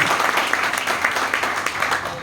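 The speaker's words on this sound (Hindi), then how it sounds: "एक बार जोरदार हाथ ताली" An audience at a group training seminar claps loudly, a dense and steady burst of applause from many hands that carries on without a break.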